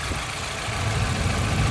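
A Nissan Silvia S13 with a CA18DET engine idles steadily at close range, a continuous low rumble with a faint uneven pulse, no voices over it.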